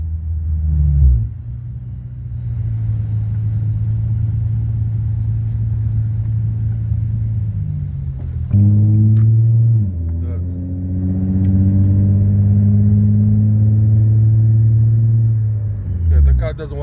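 A car with a speed sensor fault (P1716) struggling to shift, its engine droning steadily then rising in pitch with acceleration, loud and close from inside the cabin, with no talking.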